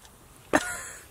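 A single sharp cough bursts out once midway through, close and fairly loud, from someone at a two-night winter bushcraft camp, with quiet outdoor air before and after it.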